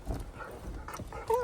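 A dog whines and whimpers impatiently inside a car, with high thin cries that come and go over low cabin rumble and grow louder toward the end.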